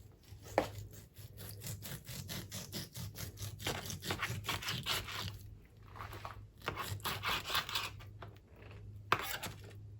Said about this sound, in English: I will start by slicing my beef.